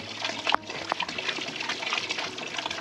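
Running water at a mountain water source at night, a close continuous trickling and splashing stream with a few sharper splashes and clinks near the start.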